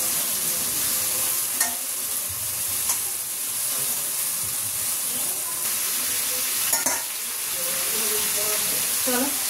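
Food frying and being stirred in a pan on a rainy day at home: a loud, steady hiss and sizzle with occasional clinks and scrapes from stirring, and a voice speaking faintly in the background.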